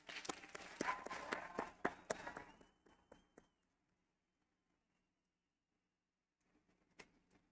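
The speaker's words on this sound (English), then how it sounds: "Let's have a round of applause for today's graduates to get them started" At a college convocation an audience applauds the graduates with a burst of scattered clapping that thins out and stops after a few seconds, leaving near silence before a few isolated claps return.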